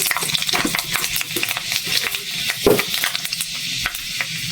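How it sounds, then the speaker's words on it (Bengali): Panch phoron spices hit hot oil in a pan, giving a close, crackling sizzle with scattered pops and stirring clinks throughout. "এই যে পাঁচফোড়ন দিয়ে দিলাম,"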